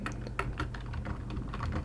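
Computer keyboard keys tapped in quick, uneven bursts while code is entered, a close, soft clicking run with no voices.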